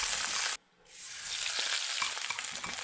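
Garlic and onions sauté in a pan for adobong sitaw, sending out a loud close sizzle that cuts out briefly, then returns with scraping stirs and small clatters.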